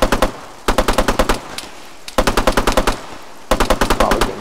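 Automatic gunfire in the video game ArmA 3, rapid bursts of loud close shots in several runs separated by short pauses, no talking.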